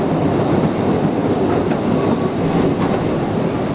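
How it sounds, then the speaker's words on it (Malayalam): The small train inside Postojna cave in Slovenia rumbles in loud and close, wheels clattering in a dense steady roar that holds at the same level without letting up. "കേവ് ട്രെയിൻ അതിൻ്റെ സ്റ്റോപ്പിലേക്ക് എത്തുന്നു."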